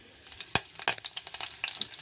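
Mustard seeds, cumin and curry leaves hit hot oil for a drumstick curry, bursting into sharp crackling pops: two loud snaps, then a rapid spatter of smaller pops over a sizzle, close up.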